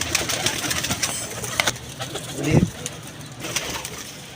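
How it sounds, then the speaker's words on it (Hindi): Soft pigeon cooing with low, throaty murmurs among other bird chatter, one fuller coo rising briefly in the middle; outdoors, no voices. "ये देखें कबूतर"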